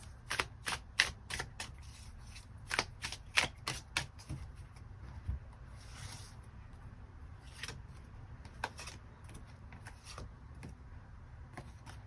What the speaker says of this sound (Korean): 이 두 가지의 경우 추가 카드 뽑아보도록 하겠습니다